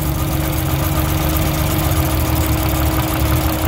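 A car engine idles with a misfire on cylinder 2, giving a loud, close, continuous rumble with a rough, uneven pulse and no pauses.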